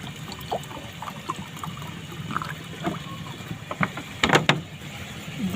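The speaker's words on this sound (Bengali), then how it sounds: "হালকা হালকা জল দিয়ে মেখে নেব।" Water added a little at a time while kneading flour dough for paratha, soft wet squelches and trickles at close range, with a brief louder splash toward the end.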